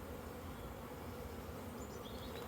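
Honey bees buzz over a hive frame in a dense, continuous drone, close and steady, with no voices.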